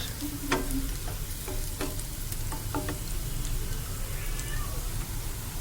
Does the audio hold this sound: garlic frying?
yes